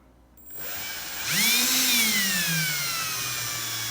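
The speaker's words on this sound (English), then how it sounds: "Micah, go ahead and turn the drill." A power drill spinning a plastic Pinewood Derby wheel spins up with a rising whine, holds a steady high-pitched hum, then slowly drops in pitch while still running.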